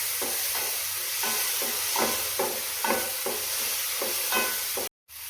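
Tomato sautés in a pan for soya kheema, a loud continuous sizzle with regular rhythmic stirring strokes about every half second, briefly cutting out near the end, no voices.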